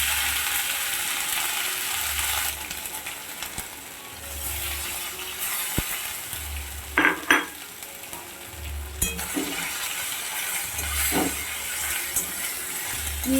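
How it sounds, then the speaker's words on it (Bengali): A paste of ginger, garlic and green chili fries in ghee with a quiet, steady sizzle, broken by a few scraping strokes of a spoon stirring in the pan; no one speaks. "আমি মশলাটা এইভাবে ভেজে নেব কিছুক্ষণ"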